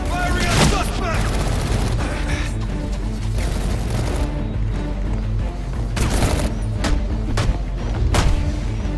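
Rapid bursts of gunfire from Batman: Arkham Origins, with dense repeated shots and heavy booms sustained throughout, loud and close amid game music and clatter, several sharp louder volleys near the end.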